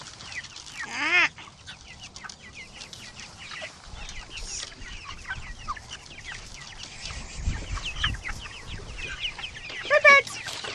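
Chickens cluck and squawk close by in a farm coop, with a couple of louder squawks near the start and end over a busy background of clucking and rustling.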